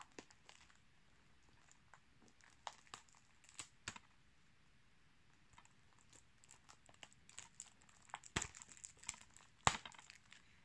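A DVD package being opened, with its paper bits giving faint, close crinkles and scattered small crackles and ticks that become busier and sharper toward the end, no speech.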